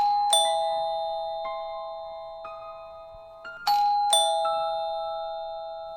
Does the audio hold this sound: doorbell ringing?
yes